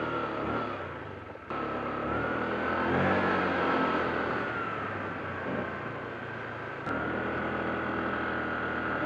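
Honda Click scooter engine revving steadily and loudly for the whole stretch, the note swelling and easing with throttle, close by, with no talk over it.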